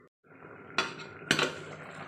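A lid goes onto a cooking pan of fish with green tomatoes, giving two close, sharp metallic clinks about half a second apart over a quiet background.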